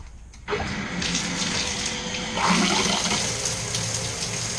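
Water bursts from a newly installed shower head, a steady hissing spray that starts abruptly after a brief quiet moment and runs on loud and close without pause.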